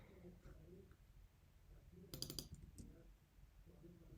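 Faint typing on a computer keyboard: a quick cluster of soft key clicks in the middle, under low background talk.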